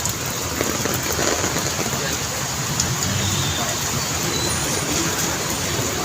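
Heavy rain in Pasay, Metro Manila, in the early morning pours down steadily in a dense, continuous hiss and roar, with no break or change across the whole stretch.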